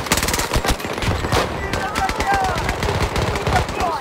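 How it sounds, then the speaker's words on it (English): A video game turret fires rapid automatic bursts of gunshots, dense and loud throughout, with players talking over the gunfire. "This fucking turret."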